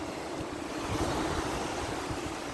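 Winter waves break on a shore in a steady, broad wash of surf with gusty wind noise, a swell peaking midway through the short stretch, no voices.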